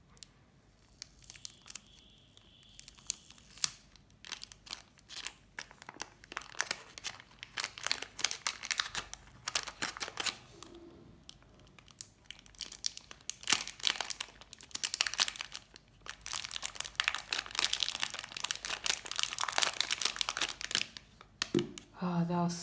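Packaging of an RS3M 2020 cube box crinkles and tears up close in uneven bursts of rustling and crunching, growing busier and louder as it goes on.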